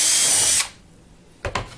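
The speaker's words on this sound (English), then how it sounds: "and then I'll go ahead and drill the center hole" A power drill runs loud and steady through the center hole of a Bearhawk aircraft spar for about half a second, then stops. A quiet gap follows, then two short knocks from handling the tool, with no speech.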